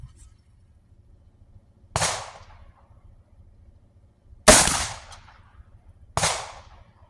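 Three sharp .357 Magnum rifle shots fired with Hornady 125 gr XTP reloads, each a loud crack with a decaying tail, spaced irregularly over steady low background rumble, no talking.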